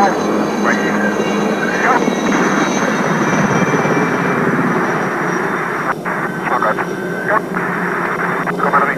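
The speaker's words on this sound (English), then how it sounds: "They're flying the Aerospatiale Alouette 3 helicopter." An elderly Aerospatiale Alouette 3 helicopter, first flown in 1959, flies at the 1987 Fairford airshow, its steady engine and rotor drone running throughout beneath a commentator's talk.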